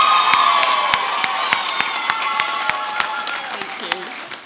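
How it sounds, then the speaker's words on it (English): An audience at a girls' high school arts and culture awards assembly applauds and cheers, with dense clapping, sharp claps cutting through and a few whoops, loud and close, tapering slightly toward the end. "give her a round of applause"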